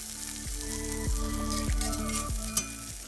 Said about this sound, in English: just go ahead on and let it sear around in that hot skillet